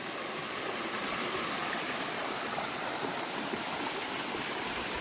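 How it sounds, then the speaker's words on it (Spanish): A clear mountain stream on Cerro San Gil, Izabal, Guatemala, rushes and burbles in a dense, steady wash of water noise, close and continuous, with no voices. "Miren qué agua tan limpia y tan pura."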